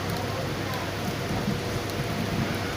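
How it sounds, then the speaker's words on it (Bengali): Heavy rain pouring steadily in Kalyani Ghoshpara, a dense, continuous hiss with no breaks, close and fairly loud. "বিশাল বৃষ্টি হচ্ছে কল্যাণী ঘোষপাড়াতে"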